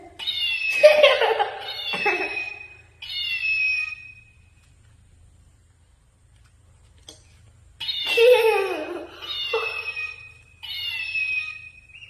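A cat meows in two bursts of several drawn-out, wavering cries, fairly close, with a quiet pause between them and no talking.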